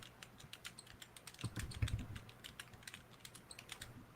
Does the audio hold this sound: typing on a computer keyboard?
yes